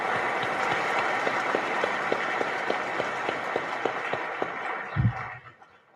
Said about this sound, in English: Let's have another huge round of applause for our guests